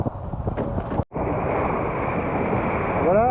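Strong wind rushes steadily over a sailing boat at sea during a race, a loud, continuous close-up roar of buffeting air and water with a brief dropout early on.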